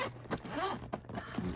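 A small zipper pouch holding nail polishes zips briefly, with a short, close, soft rasp in a quiet room.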